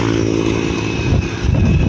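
A motorcycle engine runs steadily up close, a loud continuous buzzing drone with a slight rise in intensity near the end.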